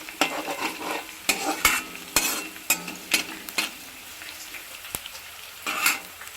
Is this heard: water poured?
no